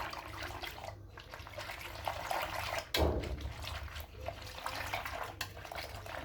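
A whisk swishes steadily through a milk mixture for homemade yogurt, a continuous wet churning with one sharper clatter against the bowl partway through.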